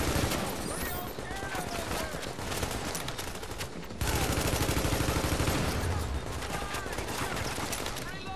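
Dense, continuous gunfire from a firefight in The Division's Dark Zone, loud and unbroken throughout, with voices talking over the shooting.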